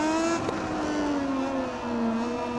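Racing motorcycle engines in MotoGP 20 drone at high revs, a loud, steady whine close by that sags slightly and then holds, with faint crowd and track noise underneath.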